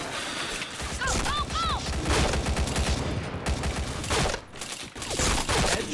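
Continuous heavy gunfire in a shooter video game, loud overlapping shots and bursts with game effects mixed in, dense from start to end with a brief dip near the close.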